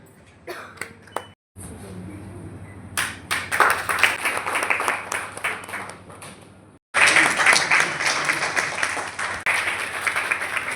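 Sustained, dense clapping from a seminar audience at an honouring ceremony for a senior Jharkhand journalist, at a green-energy event by the Kishori Lal Foundation. It breaks off briefly, resumes, then swells louder midway, with voices mixed in.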